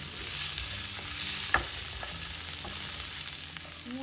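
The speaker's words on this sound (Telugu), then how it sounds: "ఇప్పుడు ధనియాలు కూడా వేగిపోయి ఇవి 2 నిమిషాలు వేయించుకున్నాక ఉల్లిపాయ ముక్కలు వేసి వేయించుకోవాలి." Onion pieces fry with coriander seeds in a pan, a close steady sizzle broken by occasional stirring scrapes and light knocks.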